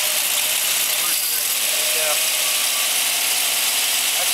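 A 1962 Ford Fairlane's 200ci six-cylinder engine, freshly fitted with a rebuilt head after a valve job, idling in a steady loud hum masked by broadband noise, with a voice briefly talking over it.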